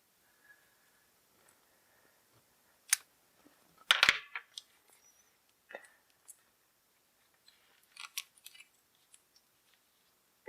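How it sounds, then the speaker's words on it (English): Plastic wrap is pulled off a stack of board game cards: sparse crinkles and sharp crackles, with one loud burst of tearing in the middle and soft handling noises between. "let's get this plastic off of the cards."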